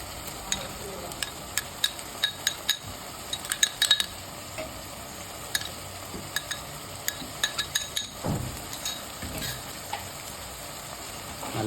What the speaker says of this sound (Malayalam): നല്ലൊന്ന് ഇളക്കി കൊടുക്കുക.